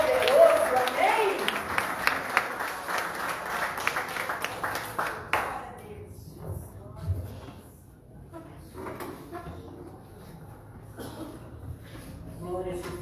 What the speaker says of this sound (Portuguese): aplauda ele, dê um toque